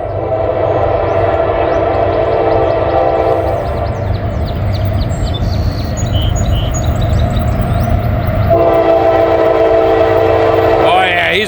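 A CSX freight train in Kentucky passes at speed as a loud, steady rolling roar with a sustained horn blast. The rumble holds throughout, and faint bird chirps sit above it.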